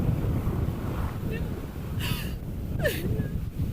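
Strong wind gusts buffet the microphone during a wildfire near Malibu, a loud low rumbling roar that surges and eases, with brief voice fragments cutting through.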